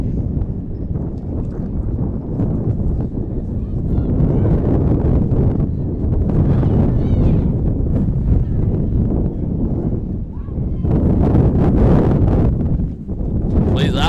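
Strong wind buffeting a microphone at an outdoor women's soccer match, a constant loud low rumble and roar that swells and dips, with a commentator's voice faintly underneath.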